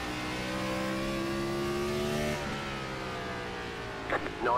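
A NASCAR Gen 4 race car engine in the iRacing game at North Wilkesboro holds a droning, partly throttled tone that sags midway, then a few sharp revs near the end, with a voice talking over it.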